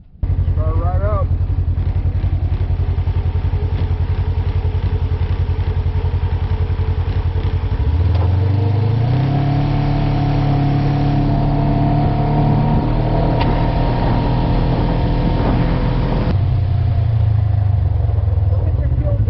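A Razor 900 Trail side-by-side engine fires up and idles steadily, then revs higher in a long sustained rise before dropping back, loud and close, with a person talking over it.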